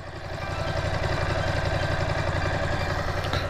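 A 2021 Ducati Multistrada 950 motorcycle idles at a dealership, its engine giving a steady, even rumble that holds level and close throughout with no talk over it.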